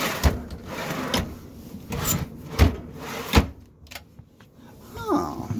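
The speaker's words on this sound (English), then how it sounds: "You got like a sliding silverware cabinet." A sliding silverware drawer in the kitchen of a 2009 Phoenix Cruiser 2551 Class B+ motorhome is worked back and forth, giving a series of close wooden knocks, rubs and clatters with a brief voice near the end.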